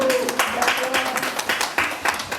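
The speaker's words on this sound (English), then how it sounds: "A round of applause." An audience at a women's empowerment event gives a short burst of applause, with bursts of clapping mixed with a voice speaking over it.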